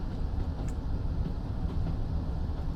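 A Class 166 diesel multiple unit pulls away in third gear at full throttle in Train Sim World, a steady low diesel drone and rumble of the moving train, fairly quiet and even throughout, no talk.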